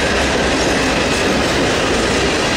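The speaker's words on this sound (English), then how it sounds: "I wonder if that would be an I-38 manifest train for Columbia down the SC line in Charleston." A Norfolk Southern manifest freight train led by SD70 and Dash 9 locomotives in the Run 8 train simulator game rolls past in a loud, continuous rumble with wheel clatter.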